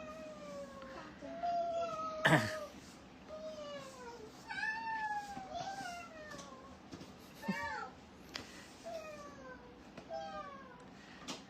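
A house cat meows repeatedly in a pleading, whining way, several drawn-out cries spaced through the stretch, fairly faint and close, with a sharp knock partway through.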